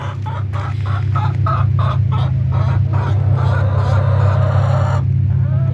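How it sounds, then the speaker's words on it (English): A crowd of hens clucking steadily inside a hen house on a Smoky Mountains homestead, many birds overlapping in a busy, continuous chorus with a low hum underneath. "I'm sure you hear that. This is the hen house."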